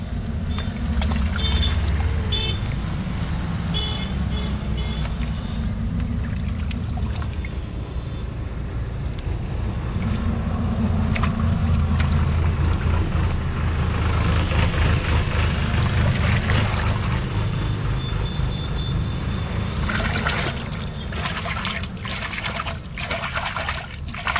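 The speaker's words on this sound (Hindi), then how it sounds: "बीच बीच में काफ़ी आवाज़ आ रहा है फ्रेंड्स गाड़ी मोटर का" Motor vehicle traffic passing near a village site where soil is being dug, heard as a continuous broadband rumble and hiss that stays fairly loud throughout.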